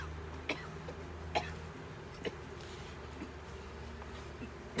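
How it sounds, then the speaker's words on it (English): A beekeeper coughs repeatedly from bee smoker smoke during a hive inspection outdoors, giving several short, sharp coughs spaced out over a low background hum, with faint insect buzzing. "You walked in front of your own smoker and started coughing."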